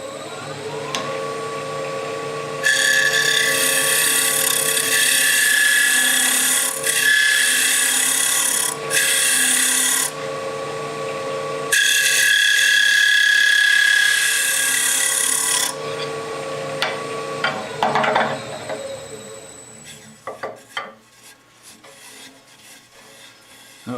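A gouge makes a cleanup pass inside end-grain hollowing on a wood lathe, giving a steady close scraping hiss with a bright rasping edge that cuts in and out in long stretches before tapering into softer scrapes and knocks.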